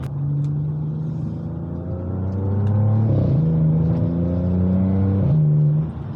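A Stage 2 tuned 500 hp Audi S5 with a DSG gearbox, in dynamic mode, pulls hard with rising revs that drop sharply at two gear changes, each shift marked by a quick pop from the exhaust.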